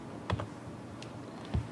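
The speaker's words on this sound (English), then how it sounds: "start our system by pressing the home key" A single key pressed on a computer keyboard, with a couple of light, close clicks separated by quiet room tone.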